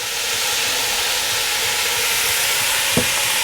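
Minestrone soup with pepper and granulated garlic heating in a pot, a loud steady hiss and simmering sizzle throughout, with one brief scrape of a stirring utensil near the end.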